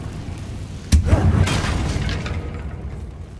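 A Confringo blasting curse goes off in a Harry Potter video game as a sudden boom with a crackling burst, then a rumbling, debris-filled tail that slowly fades.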